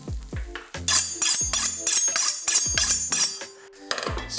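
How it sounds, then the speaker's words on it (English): A baguette pressed into a hot frying pan for a steak sandwich sizzles in repeated bright bursts, mixed with close clatter and scraping from the pan. "straight into your pan and press it down. Listen to the sizzle."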